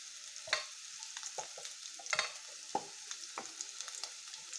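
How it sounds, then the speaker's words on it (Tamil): Cumin seeds tempering in hot oil in a pan, a steady soft sizzle with several sharp scraping strokes of a spoon spaced irregularly through it, close and alone without talk. "நம்ம இதிலே வந்து எண்ணெய் கொஞ்சம் கூட ஊற்றிட்டு நம்ம ஜீரகம் எல்லாம் தாளிச்சிடலாம்"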